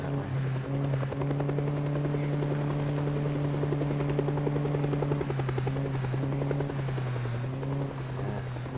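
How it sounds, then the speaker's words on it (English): A helicopter in the Project Zomboid video game flying overhead, a steady, loud rotor drone with a whirring pulse that holds throughout and shifts slightly in pitch partway through; no talking. "Why are you doing this to me, helicopter?"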